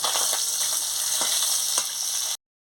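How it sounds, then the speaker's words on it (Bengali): Potato, green banana and eggplant fry in oil in a pan with a loud, dense, continuous sizzle and a few faint stirring scrapes, cutting off abruptly. "আলু কাঁচকলা বেগুন মিশিয়ে সবের সঙ্গে ভেজে নিচ্ছি"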